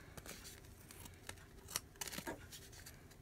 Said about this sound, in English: We're going to go ahead and cut